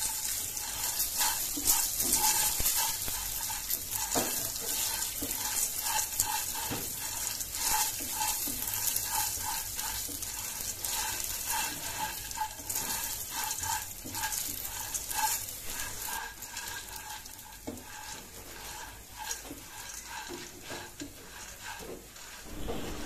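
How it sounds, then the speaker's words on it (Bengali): Corn kernels stirred in a hot pan, giving a long continuous sizzle with soft scraping and rattling from the spatula, moderately quiet and steady throughout. "ভুট্টাগুলোকে বেশ কিছুক্ষণ নেড়ে চেড়ে দিচ্ছি ভালো করে গরম হয়ে ওঠার জন্য"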